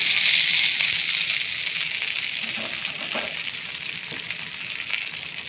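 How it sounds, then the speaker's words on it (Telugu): Hot tempering of cumin, urad dal, chana dal and dried red chilies sizzles loudly into chutney as a steady, close crackling hiss that eases slightly after the first pour, with faint stirring clicks underneath. "ఈ పోపు ఇప్పుడు చట్నీలో వేసుకుందాం"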